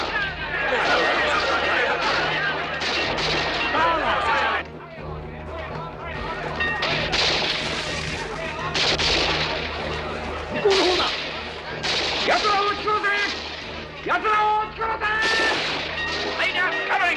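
Covering fire crackles in sharp, repeated bursts of gunshots in a battle scene, loud and close, mixed with shouting voices.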